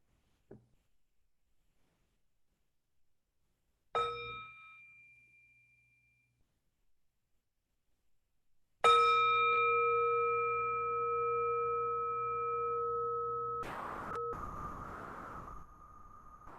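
During an evening meditation session, a bell is first invited with a soft touch, then struck clearly twice, each time leaving a long, pure ringing tone that slowly fades in a quiet room.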